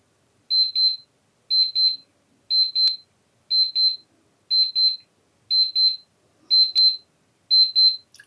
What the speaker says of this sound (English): So in 20 seconds the alarm should go off.